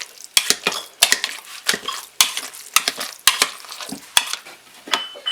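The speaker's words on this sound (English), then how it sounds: "I'm just going to take our potato masher and mash these." Sweet potatoes, drained after boiling, being mashed with a metal potato masher in a pot, giving repeated soft squelching thumps and clanks at an irregular pace, close and fairly loud with no talking.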